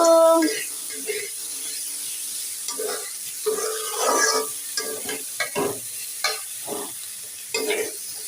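Dumur fig bhaji fries in a pan while a spatula stirs it, a series of distinct scraping strokes at an uneven rhythm over a low sizzle, close and fairly loud.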